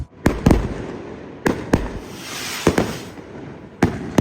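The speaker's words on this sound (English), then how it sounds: "someone was shooting off 6-foot-tall pop bottle rockets" Six-foot-tall pop bottle rockets going off in the evening near a riverside ferry crossing into Spain, sharp distant cracks arriving in uneven pairs and singles over a faint background hiss.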